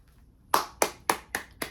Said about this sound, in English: I'll give you props and clap